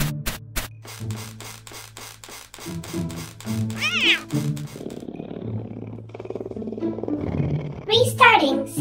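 Cartoonish cat meows inside a VR simulation game, heard in short bursts alongside game music and synthetic effects, with a louder yowl near the end.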